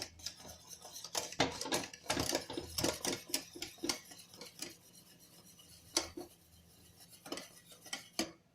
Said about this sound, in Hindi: थोड़ी देर हिलाते रहे क्योंकि अभी बर्तन गर्म है